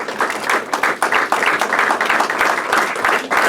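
Audience at a farewell function applauding during an honoring with bouquets and shawls: irregular, fairly close clapping from a modest group, sustained throughout.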